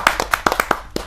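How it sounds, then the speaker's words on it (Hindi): A few hands clapping at a televised Hindi poetry gathering to welcome a poet, about eight sharp, close claps in quick, slightly uneven succession. "आप तालियों से स्वागत कीजिए सुरेश धनोरा जी।"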